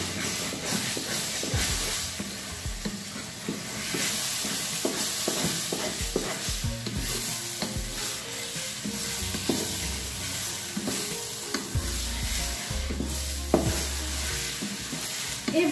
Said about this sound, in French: Je mélange plus énergiquement.